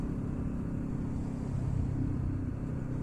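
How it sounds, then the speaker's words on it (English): IndyCar race cars run at Sebring Raceway, a steady distant engine rumble rolling past without any speech. "This is so freaking cool, guys. Like, to see Indy cars here."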